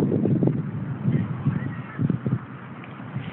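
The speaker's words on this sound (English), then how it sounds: "These are ducks, honey. They go quack," Several ducks at a park quack and honk in short bursts nearby, overlapping irregularly with no talking.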